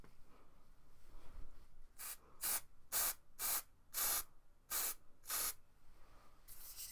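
Hair spray hisses in about eight short, sharp bursts from an aerosol can, close up, each separated by brief pauses, with no talking.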